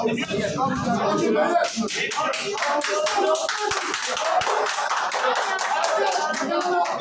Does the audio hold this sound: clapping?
yes